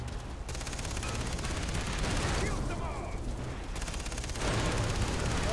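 Rapid gunfire rattles in Far Cry 3 during a driving sequence, a steady stream of loud shots with booming impacts, continuous from start to end.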